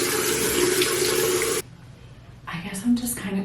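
Water runs from a tap into a sink for face washing in a lodging bathroom, a steady close rush that cuts off abruptly, followed by fainter splashing and dripping.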